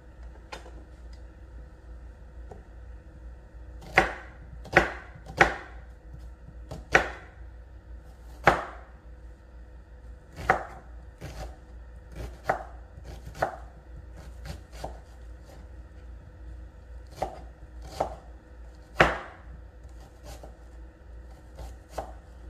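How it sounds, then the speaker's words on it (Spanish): An onion is chopped with a knife on a board in a quiet kitchen, sharp irregular cuts in short bursts and pauses, some close together, over a low background hum. "aquí voy a picar a cebolla para ponerle"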